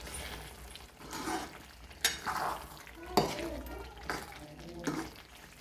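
A spoon stirs chicken bhaji sizzling in oil in a pan, with scraping strokes and clinks of metal against the pan over a soft frying hiss, close and moderately quiet.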